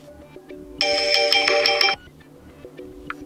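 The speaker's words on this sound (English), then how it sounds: "We can change our ringtone." A Samsung Galaxy A3 Core phone ringtone plays one short, bright electronic melodic burst of about a second, clear and close, with no talk.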